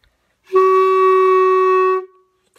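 A woodwind instrument sounds a single sustained note with one key pressed, steady and clear for about a second and a half before stopping cleanly, with no talking.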